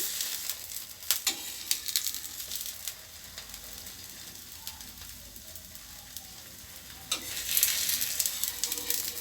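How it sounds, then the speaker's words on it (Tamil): Chapati frying in oil on a flat pan, a steady close sizzle and crackle with soft clatter as the flatbread is flipped, swelling louder near the end. "திருப்பி திருப்பி போட்டாக்க நம்மளுக்கு சூப்பராக வேகும்"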